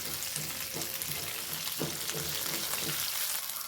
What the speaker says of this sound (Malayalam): എനിക്ക് വറ്റൽമുളക് അടിപ്പിക്കണം